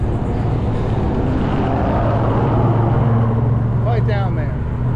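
Trucks idle on the street in Oak Island, a continuous loud low engine rumble that holds steady throughout, with a brief higher whine near the end.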